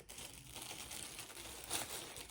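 A plastic bag crinkles and rustles steadily at close range for a couple of seconds, with a slightly louder crunch near the end and no talking.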